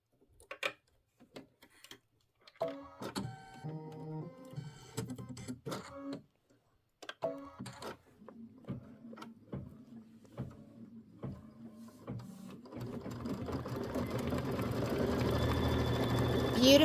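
An embroidery sewing machine stitches a quilt block with white thread, first in short bursts of rapid mechanical ticking separated by pauses, then settling into a steadier, louder run toward the end.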